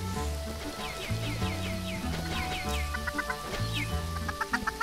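Chicks clucking and peeping in the Minecraft video game, several short chirpy calls repeating over a steady low musical background, fairly close and clear, no talk.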